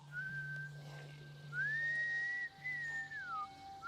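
A single person whistling a slow, wavering tune, sustained notes gliding up and down, fairly clear over a low steady hum.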